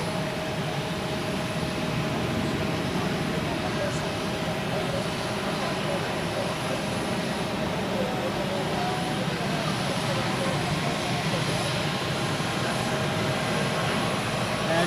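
A jet airliner taxis at Zurich Airport, giving a steady, loud, continuous engine roar and whine that holds throughout, heard close by outdoors.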